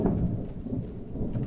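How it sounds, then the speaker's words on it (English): Low, rolling thunder rumbles steadily with a rain-like wash in a Conan survival video game, filling the short stretch of sound at a moderate level without any voices. "I don't know if you can hear the thunder in the background."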